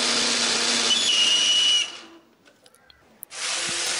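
An electric blender grinds a spice paste of chilies, turmeric, pepper and coriander with a little water, giving a loud, steady whirring roar that stops abruptly, leaves a short near-silence with small clicks, then starts again.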